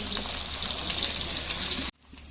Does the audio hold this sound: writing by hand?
no